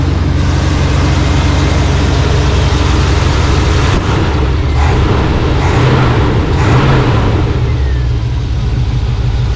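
An engine fitted with an Evil Energy performance carburetor runs loud and close after refiring from a flood, holding a rough steady idle with a few brief revs midway.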